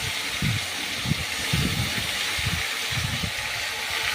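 Ginger, garlic and onion paste hitting a hot pan for a mutton curry gives a steady loud sizzle, with low irregular bubbling spatters pulsing underneath and no voices.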